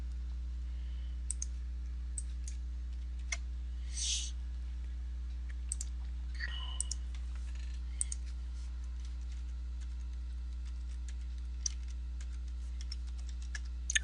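Sparse clicks of a computer keyboard, a few isolated keystrokes and short bursts spread over a low steady electrical hum, faint and close.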